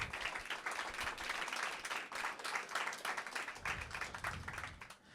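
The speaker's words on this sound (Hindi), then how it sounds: "एक बार फिर से जोरदार तालियां प्रतीक के लिए" An audience at an open mic event applauds for several seconds, a dense, steady round of clapping from a modest crowd that fades slightly near the end.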